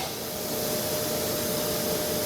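A Bridgeport-Hardinge GX480 vertical machining centre spindle spins at its 10,000 RPM maximum, giving off a steady, even high-pitched whine and airy hiss that holds unchanged throughout, with no talk.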